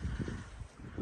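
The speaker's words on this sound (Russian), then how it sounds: "Потому что ветер какой-то прям поднимается." Rising wind gusts across a spring garden with pear trees, a steady rushing roar buffeting the microphone with low rumbling surges throughout.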